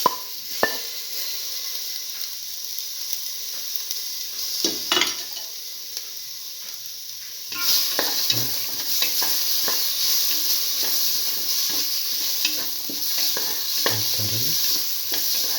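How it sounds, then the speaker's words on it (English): Tomato pieces hit a hot pan for a black lentil stew and sizzle steadily, with scraping stir strokes and occasional utensil knocks against the pan, close and fairly soft, with no talking. "Now put in the tomato pieces."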